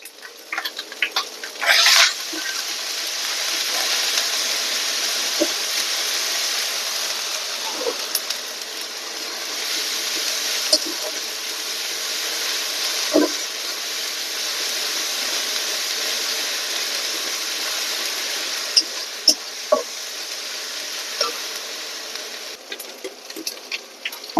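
Garlic fries in hot oil with ginger in a pan for a rohu fish curry, giving a continuous moderate sizzle with occasional light taps and stirring.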